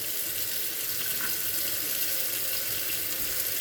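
Hot water runs steadily from a tap into a sink, a continuous close, even splashing rush with no talking, while preparing to restore hazy headlights.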